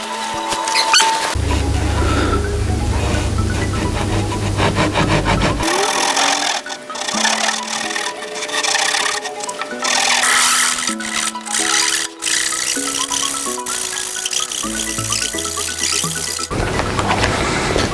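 A hand saw cuts through wood in a woodworking shop, rasping in long, steady strokes that stay loud and close throughout, with no talking.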